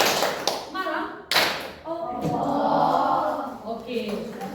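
A classroom group playing a concentration game claps in short bursts between spoken cues, crisp near hand claps interleaved with a teacher's voice and children responding.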